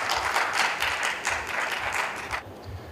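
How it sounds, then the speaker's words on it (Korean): A steady wash of applause from members gathered at a housing cooperative's annual general meeting welcomes the chairman to his seat, then drops away abruptly near the end. "성원과 격려의 박수로 맞이해 주시기 바랍니다."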